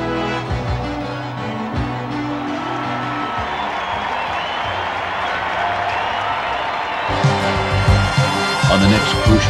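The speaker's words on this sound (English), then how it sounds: "Sniffing an upset, the hostile Illinois crowd yelps for another Buckeye scalp." A hostile Illinois home crowd at a 1968 college football game against Ohio State, score tied late, yells and cheers in a dense, continuous roar that swells again near the end, with scattered clapping mixed in.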